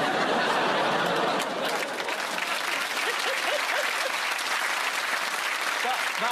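A television panel show studio audience breaks into loud, sustained applause with scattered laughter mixed in, a dense continuous wash of clapping that holds steady throughout.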